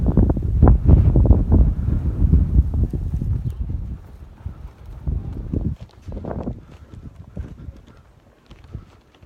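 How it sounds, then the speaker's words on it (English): Strong wind at the El Morro Spanish fort in Puerto Rico buffets the microphone as a loud, gusty low rumble that swells and fades unevenly. "very windy today."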